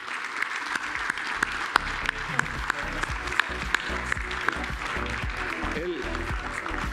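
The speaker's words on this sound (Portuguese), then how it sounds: "Demos un fuerte aplauso." Quieter, steady applause from an audience at an award ceremony honoring a career-achievement recipient, a continuous patter with a few sharper individual claps standing out and a voice speaking over it.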